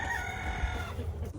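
A rooster crows steadily and close by on a farm, a sustained loud call with clucking fowl mixed in, no talking.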